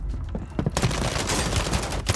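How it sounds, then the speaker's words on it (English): Rapid gunfire in Warzone 3 from a one-shot sniper build, a dense loud barrage of overlapping shots filling the whole moment with no pause. "I stopped shooting because I thought he should have been dead"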